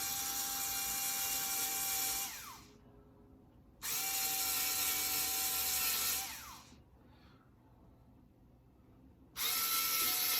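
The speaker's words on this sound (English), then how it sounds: "I'm gonna go ahead and drill a little bit on each one of these holes." A power drill bores into the holes of custom Retro 3 golf cleats in three separate bursts, each a loud, high whine that winds down between runs. No one speaks.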